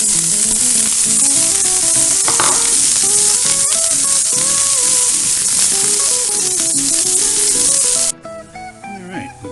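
Vidalia onion and fresh minced garlic hit hot olive oil in a pan for chicken Marsala, giving a loud, continuous close-up sizzle over background music until it cuts off near the end.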